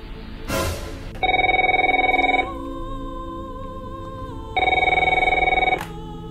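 A telephone rings in two long electronic bursts separated by a pause, loud and close, following a brief rustling noise at the start.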